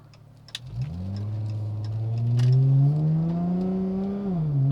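A 2019 Chrysler 300S fitted with a Pedal Commander PC31 accelerating hard in sport mode with traction control off, the engine rising steadily in pitch through a long pull, close and loud, with a brief dip as it shifts near the end.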